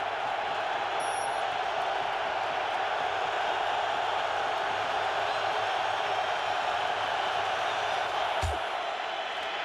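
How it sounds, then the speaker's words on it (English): A stadium crowd roars steadily at an NFL game in Detroit between the Vikings and the Lions, a broad sustained wash of noise with a sharp bang near the end. "the crowd trying to make some noise with the Vikings basically in their own end zone"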